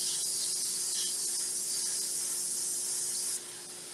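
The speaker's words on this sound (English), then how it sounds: "And we're going to spray our pan." Cooking spray hisses steadily onto a cake pan for a chocolate cake, a close, continuous spray lasting several seconds before easing slightly, with no talking.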